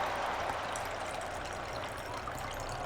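A strange, continuous water sound plays in the video game Football Manager 2023, a steady rushing trickle like a running stream. It stays at an even level throughout.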